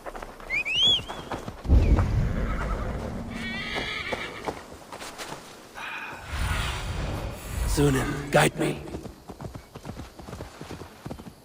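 Hooves clip-clop on the ground as a horse whinnies loudly a couple of times in Assassin's Creed Valhalla, with a voice speaking briefly over the game sounds.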